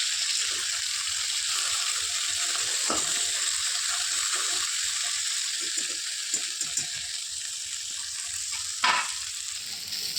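Small chuno fish fry in a pan with a steady, fairly loud sizzle, broken by a few light clinks and scrapes of a utensil and a brief sharper hiss near the end.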